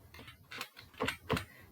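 A handful of keys are tapped on a computer keyboard, about four or five quiet, close clicks in an uneven rhythm.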